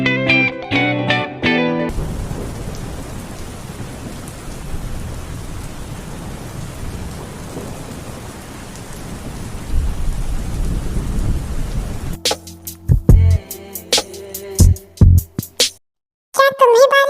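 A heavy rainstorm with thunder: a continuous downpour roar under low rolling rumbles, bracketed by brief musical passages at the start and end.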